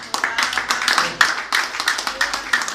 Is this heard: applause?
yes